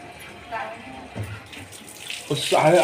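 A tap runs with a splashing rush of water, at first dirty, into a sink, growing louder toward the end, with a voice speaking over it.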